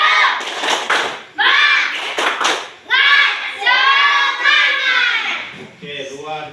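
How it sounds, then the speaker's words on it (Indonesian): In a school classroom, a group of children performs a rhythmic clapping chant, with bursts of sharp, close-up clapping alternating with loud chanted voices in a lively, patterned beat. "Saya mau dengar kalian coba tepuk semangat."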